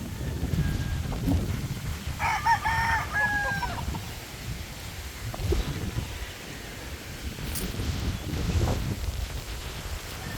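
Chickens and chicks cluck and peep around a farmyard, with a rooster's crow rising partway through, scattered close clucks, and light wind in the background.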